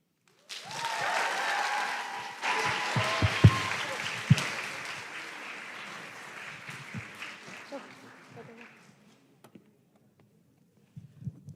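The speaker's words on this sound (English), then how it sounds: "Can we get another round of applause for this powerful woman?" An audience applauds after a moving spoken-word performance at a student cultural showcase; a dense burst of clapping with a few loud claps rises near the start, then thins and fades out, ending in near silence.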